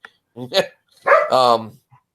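A dog barks sharply close by, a short yap followed by a longer pair of loud, tonal barks, with quiet in between.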